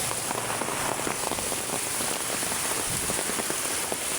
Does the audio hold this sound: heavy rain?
yes